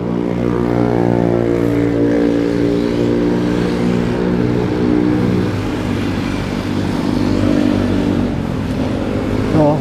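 A motorcycle engine runs loud and close on a roadside by a Shell station, a continuous throaty roar that rises and falls with revving for about ten seconds, with no talking.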